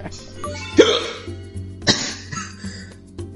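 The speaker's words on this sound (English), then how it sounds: "Giving me the hiccups." Hiccups during a lively card game of Uno, two or three sharp abrupt throat spasms spaced about a second apart, loud and close, with soft voices and room sounds between them.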